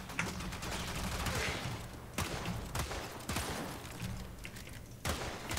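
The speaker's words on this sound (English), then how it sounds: "I am spamming the trigger as fast as I can" Zylok sidearm in Warframe firing in spaced single shots, each a sharp crack with a boomy tail, repeating roughly every second against a steady layer of game ambience.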